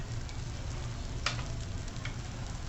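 Red chilli powder and onion-garlic masala spices fry in a pan, giving a steady close hiss with one brief scrape of a spoon midway and a fainter one after.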